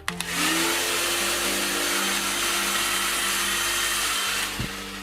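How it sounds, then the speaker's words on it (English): A handheld hair dryer on medium heat blows on wet hair, giving a loud, steady whirring rush. It holds throughout with a slight shift in tone just after it starts, and no one speaks. "when I'm blow drying my hair from wet to dry, I firstly begin on medium heat"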